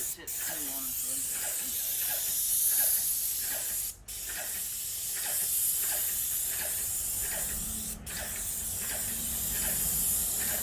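Airless paint sprayer with a 310 tip laying down a first coat of paint indoors downstairs, a steady close hiss running continuously with two brief breaks, a faint rhythmic ticking beneath.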